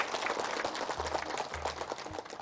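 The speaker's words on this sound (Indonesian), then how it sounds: "Kalau begitu boleh tepuk tangan buat kita semua di sini." Studio audience applause on an Indonesian religious TV show, a thin continuous patter of clapping under a low hum, steady throughout.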